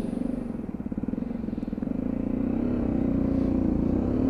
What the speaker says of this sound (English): that under-seat exhaust does sound good